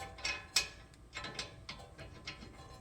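Bolt being run back into the lower control arm of a Lexus GX470 by hand, giving a quiet series of light metallic clicks and scrapes with a couple of sharper ticks, close up and without talk.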